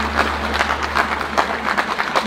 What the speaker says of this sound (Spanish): Vamos a acompañarlas con un fuerte aplauso